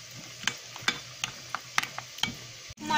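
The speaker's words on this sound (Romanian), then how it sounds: "Acum fierbim și chifteluțele în ulei." Chickpea falafel balls fry in hot oil with a soft, steady sizzle, broken by several sharp clicks and taps of a utensil stirring in the pan, ending with a louder clatter.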